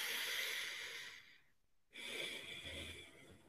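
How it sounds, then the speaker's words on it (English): A single deep inhalation, drawn in slowly and close by with an airy hiss, then a brief pause of near silence before breathing resumes, all without talk. "pay attention to what it feels like to breathe in a full breath of air"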